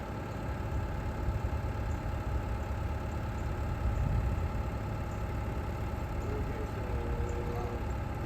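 Bobcat skid steer engine running steadily with its bucket hydraulics switched on, a continuous mid-low drone throughout with a slight swell partway, while people talk nearby.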